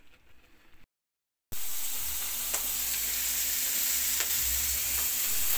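Cassava leaves boiling in a pot to draw out their bitter green sap, a steady close bubbling and sizzling churn that holds on alone after a brief silence.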